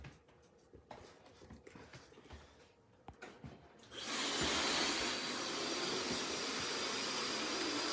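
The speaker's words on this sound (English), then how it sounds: "this is a Dyson blow dryer" A Dyson hair dryer starts up partway through, a steady loud broadband blowing that runs continuously after a few seconds of quiet handling sounds during a haircut on short bob-length hair.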